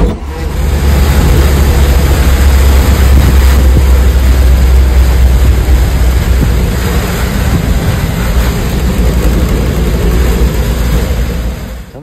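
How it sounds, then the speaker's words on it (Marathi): An auto rickshaw ride on the way to Goa, the engine running as a loud, steady rumble with road and wind noise throughout, constant and close. "टाइमपासवाल्या माणसाच्या रिक्षात बसलो आम्ही"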